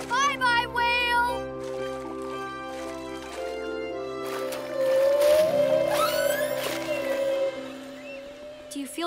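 Whale calls in a children's cartoon: long sweeping moans and rising whistles over a sustained musical backdrop, loud and close, with cartoon voices and splashy effects mixed in.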